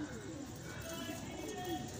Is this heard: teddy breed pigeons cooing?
yes